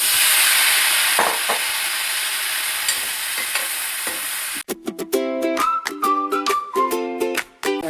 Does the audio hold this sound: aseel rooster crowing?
no